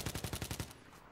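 A quick burst of automatic gunfire in Battlefield 3, roughly seven rapid, evenly spaced shots in just over half a second, then an abrupt stop with only a faint tail of ambience.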